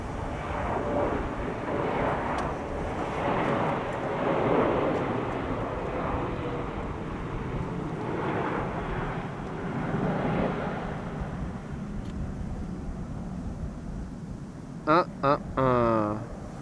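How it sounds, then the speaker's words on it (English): An airplane lands at Schiphol Airport with thrust reversers engaged, a broad roaring rumble that swells and fades at a distance, with brief sharp clicks near the end. "I can also hear the reversers"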